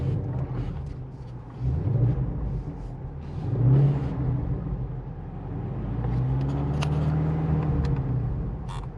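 A Shelby GT350 returned to stock form without its Whipple supercharger idles close by in a low, steady rumble with slight swells in loudness and no one talking.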